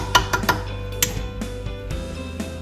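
A metal utensil clinks and knocks against a pot while pushing bay leaves down into chicken and dumpling broth, several sharp close taps early, then quieter scattered clinks.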